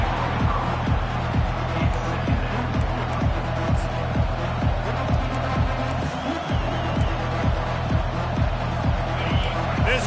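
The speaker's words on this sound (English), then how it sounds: "This crowd trying to make life miserable for this offense." Roaring stadium crowd in the NCAA 25 college football video game, a steady loud wash of cheering and noise with a regular rhythmic thumping beat running underneath throughout.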